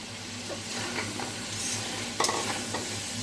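Fried lentil cakes (dhoka) go into a pan of spices and are stirred. A steady frying hiss sits under repeated scraping stirs, with a louder clatter of utensil on pan partway through.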